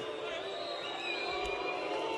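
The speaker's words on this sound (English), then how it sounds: "The crowd don't like this." An MMA arena crowd reacts to a low knee strike with a sustained, distant murmur and jeering roar, under a faint voice.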